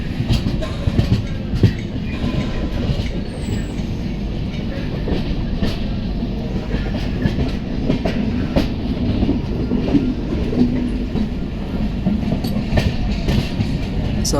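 A train rolls along the Dharmavaram–Pakala railway line with a steady, loud rumble and rhythmic wheel clatter lasting throughout, close by and unbroken.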